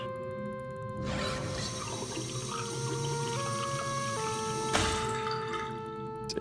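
Water drips and trickles softly inside the Riven remake video game, a quiet liquid patter running under sustained tonal background music that shifts pitch in steps.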